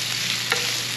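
Garlic and onions sautéing in oil in a pan for a Filipino gisa, a steady bright sizzle with a brief stir near the middle, close and continuous with no talk.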